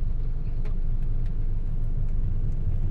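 Slow, congested car traffic on EDSA in Manila on a rainy day, heard as a steady low engine rumble with passing vehicle noise, continuous and fairly close, with no voices.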